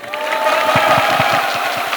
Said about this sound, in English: let's have a huge round of applause for our guests